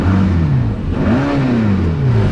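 Mercedes-AMG GT Black Series flat-plane V8 revving with the exhaust closed, a smooth, loud, close engine note climbing and falling in pitch through one continuous rev.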